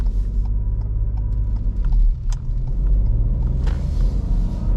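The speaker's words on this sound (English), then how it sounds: "keep creeping out of the junction, and then more gas as you gently release the clutch" A manual car engine idles with a low, steady rumble while creeping out of a hill junction with the clutch held at the bite point, loud and close, with a few light clicks and creaks.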